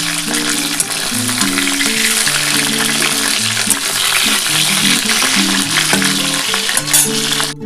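Pieces of rohu fish frying in hot oil, a loud continuous crackling sizzle with occasional stirring, over soft background music tones and no talking.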